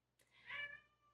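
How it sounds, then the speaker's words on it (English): A house cat meowing to be let outside, one short faint plaintive meow rising and falling, alone against a quiet indoor background. "That's my cat, Millie."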